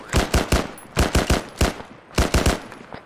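Close, loud bursts of rapid gunfire in an outdoor skirmish around a lumber mill, three quick volleys of sharp cracks with brief pauses between them and no talking.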